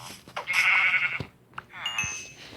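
A sheep bleats in a video game, a couple of short wavering cries close by, with a player's voice talking around them.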